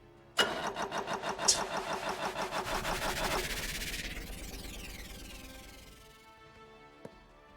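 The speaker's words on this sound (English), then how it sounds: "That sounds like a dead battery though, Jack." A boat engine in the video game Stormworks cranks repeatedly in a fast rhythmic churn, fails to catch, and winds down to silence with a faint click near the end.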